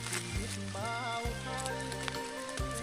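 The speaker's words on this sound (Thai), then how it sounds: "นี่ฝนตกนี่" Rain falls steadily through the night on a surface during mushroom foraging in a village in Bueng Kan, Thailand. It sounds as a continuous patter mixed with tonal background noise and faint voices.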